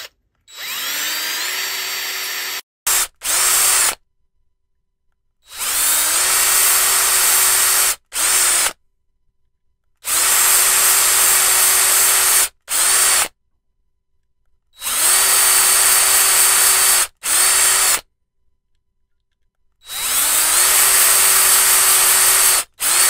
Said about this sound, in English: Now that we're all finished drilling our holes